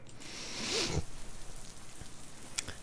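Rain patter from a classical guitar performance, a steady soft wash with a brief swelling tone and a few faint taps, alone with no talk.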